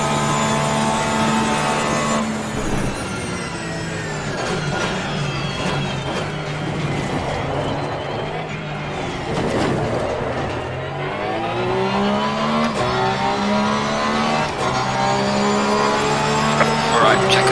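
Race car engine in Assetto Corsa Competizione at Spa: a loud, continuous engine drone rising and falling in pitch through gear changes, with a person talking over it.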